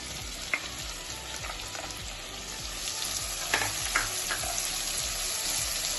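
Onion sautéing in a pan for baingan bharta (vangyache bharit), a continuous close sizzle with occasional light scrapes and taps from stirring that grow slightly louder toward the end.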